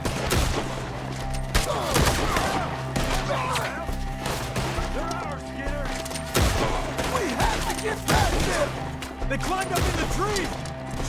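Rapid gunfire fills a shootout in Red Dead Redemption 2, with dense overlapping shots and cracks coming in bursts over constant action noise, while voices shout among the fire.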